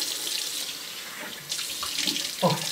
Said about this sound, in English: Rinse off this hot water.